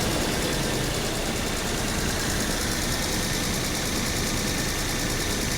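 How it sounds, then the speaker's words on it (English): A 2007 VW Passat engine idles steadily without misfiring or vibrating, a constant low rumble with faint mechanical ticking, close by and unbroken throughout. "it seems to be running just fine. And the engine does not seem to be vibrating."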